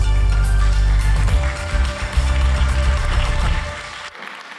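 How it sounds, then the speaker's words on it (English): An audience applauds panelists at a panel discussion. Scattered claps rise above a steady tonal hum with strong low rumble, and everything cuts off abruptly near the end, leaving near silence. "One loud round of applause,"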